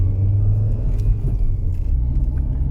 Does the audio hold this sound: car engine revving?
yes